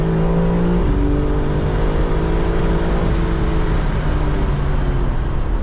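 A 2023 BMW M4 Competition driven hard, its loud engine roaring steadily from inside the cabin, pitch climbing through the gears with clear drops at each shift, no talking.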